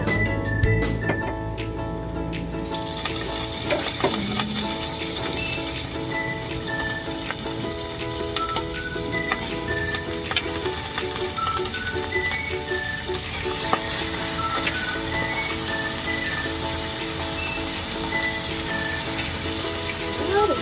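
Garlic and other aromatics sizzle steadily in a hot pan as the base for Bicol express, a continuous frying hiss with occasional clinks and stirring scrapes running throughout.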